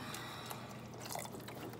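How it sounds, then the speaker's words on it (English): Water poured into a pot of ham and rice soup, a soft brief trickle and drip heard close up on its own. "I'm gonna add just a touch more water"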